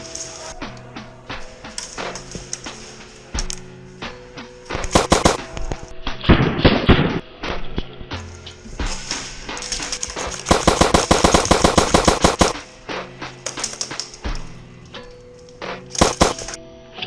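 Airsoft replica guns firing at an indoor close-quarters course, sharp clattering bursts of rapid shots and single pops, some close and loud, others farther off, with faint voices between volleys.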